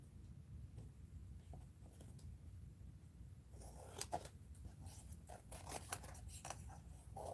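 Quiet snipping of scissors trimming paper for an art journal, a few short crisp cuts in a row after a faint, hushed stretch.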